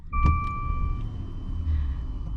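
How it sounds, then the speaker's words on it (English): Cold start of a 2021 Maserati Ghibli Trofeo: a short starter whine and engine catch give way to a low, steady idle rumble, fairly quiet and muffled. "Let's get that cold start up."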